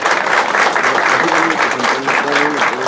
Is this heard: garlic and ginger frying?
no